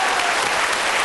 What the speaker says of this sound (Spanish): Aplauso, sí, por favor.